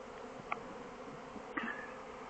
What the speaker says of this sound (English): That black blob is pure honeybees in our corner, trying to get into our house.